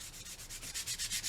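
Rapid, rhythmic rubbing strokes of a sanding stick on a handmade prop axe scrape back and forth, close and steady, with no voices.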